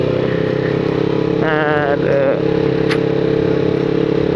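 A motorcycle engine hums steadily nearby on a street, with a brief rising whine from a passing red motorcycle and a short horn-like tone midway.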